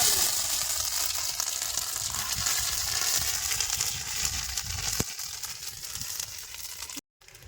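Ginger frying in hot oil with cumin and bay leaves, a continuous bright sizzle close up with a sharp tap partway through and a short silent gap near the end.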